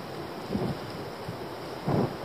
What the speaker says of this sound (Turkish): Ani yağmur rüzgarı birden çıktı.